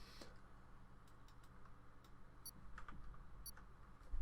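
A countdown timer in the F1 2020 racing game, set at Albert Park, counts down before one-shot qualifying with faint, evenly spaced ticks over a few seconds against a quiet background.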